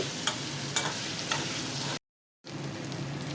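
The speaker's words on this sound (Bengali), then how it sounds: "আমি হালকা করে সব কিছু ভেজে নিলাম" Dried lotka shutki fish fries in a pan with a steady, close crackling sizzle and a few stirring scrapes, cut by a brief silent gap before the frying noise resumes.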